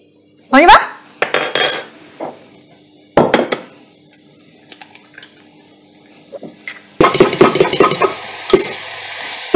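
A fork clinks and scrapes against a bowl while quiche filling of cream, salt and pepper is mixed, in separate bursts of metallic clatter with brief pauses, ending in a longer run of rapid stirring.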